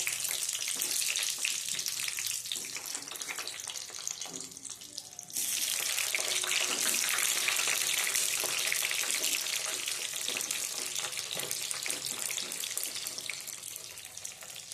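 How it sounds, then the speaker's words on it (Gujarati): Brinjal pieces frying in hot oil in a pan, a dense continuous sizzle that briefly dips and then surges back louder as more pieces go in, close and steady, with no talk. "હવે આપણે આ રીંગણા છે ને એને ફ્રાય કરી લેવાના છે, તો આપ જોઈ શકો છો।"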